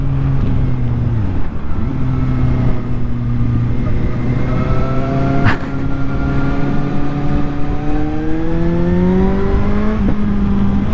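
A Suzuki 750 GSR motorcycle engine is pushed hard on a road, a loud sustained engine drone whose pitch slides down through a gear change, then climbs steadily as it revs and accelerates again.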